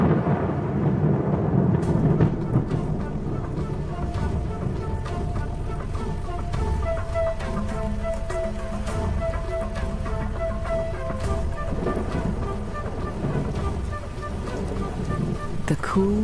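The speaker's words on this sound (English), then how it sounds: "the promised rain arrives at last." Rain pours across the African plain as a thunderstorm breaks, a dense, steady roar of downpour with low rolling rumbles running throughout.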